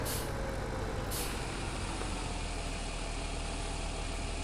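Truck in the video game Farming Simulator 17: sharp air brake hisses near the start and about a second later, then a steady, loud idling engine rumble throughout.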